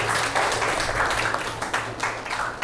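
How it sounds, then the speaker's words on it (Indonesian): A classroom of students applauds together, a dense burst of close, loud clapping lasting a few seconds. "Berikan tepuk tangan untuk ya."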